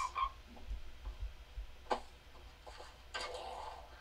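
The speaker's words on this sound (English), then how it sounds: "Croaking rabbits." Croaking rabbits giving a few faint, scattered croaks and clicks in a quiet setting, with brief sharper bursts spaced irregularly between stretches of near silence.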